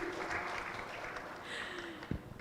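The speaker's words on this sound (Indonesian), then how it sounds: "Boleh tepuk tangan sekali lagi." Applause rises from the audience at a live Indonesian tourism talk event, fairly faint and distant, a steady patter of clapping with a brief clunk near the end.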